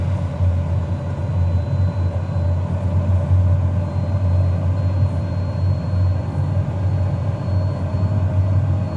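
A Pilatus PC-12 turboprop in flight, heard from inside as a steady, loud low drone with a constant rumbling hum that never lets up, with no talking over it.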